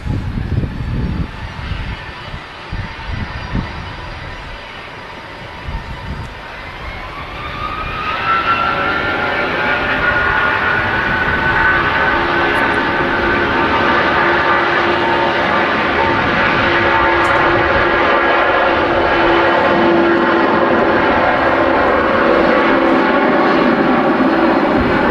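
A Boeing 757 airliner passes at Manchester Airport, its jet engines building from a distant rumble to a loud, sustained roar with a rising whine, heard alone.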